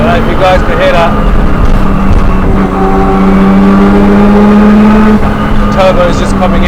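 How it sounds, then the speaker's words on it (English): A Nissan Skyline R34 GT-R's turbo spools up while driving, a loud sustained engine drone with a rising whine building steadily, heard close from inside the cabin with faint talk under it. "Turbo is just coming in there, spooling up."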